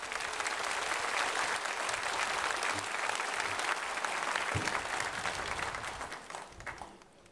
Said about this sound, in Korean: 나오실 때 박수로 환영하겠습니다